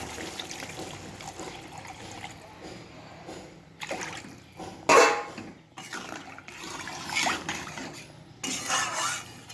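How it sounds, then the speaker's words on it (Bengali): Water is poured into a pan of taro and fish curry, a splashing, gurgling pour with clinks of a pot and utensil, rising in several louder bursts over a low background. "এখন দিয়ে দেবো আমি ঝোলের জল"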